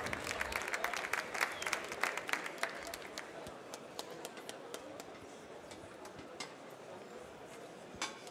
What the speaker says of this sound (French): on applaudit bien fort les juges qui arrivent sur scène pour Vladimir